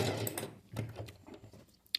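A sewing machine with a presser foot stitches a straight seam in fabric in short, rapid mechanical bursts with brief pauses, close and fairly quiet.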